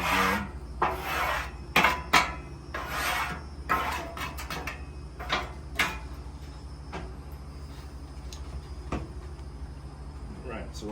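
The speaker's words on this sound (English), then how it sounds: "I'm gonna scrape all the juices off the grill" Metal scraper rasping across a hot cooking grill to clear off juices, in a series of short, uneven scrapes and knocks over a steady kitchen hum, close and moderately loud.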